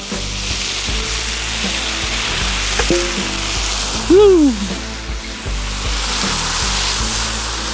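Zucchini pasta hits a hot pan and sizzles loudly and steadily throughout, with a few clinks of a utensil and a brief scraping stir partway through.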